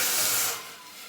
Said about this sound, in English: I'm gonna pour it into my pot over here. It might sizzle a little bit because the pot is hot.